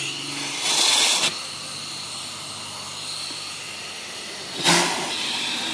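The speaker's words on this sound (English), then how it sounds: "I'll just turn on the steam here a little bit," Steady broadband hiss of steam running into an Allen steam engine, blowing water out, with two louder bursts of rushing steam near the start and end.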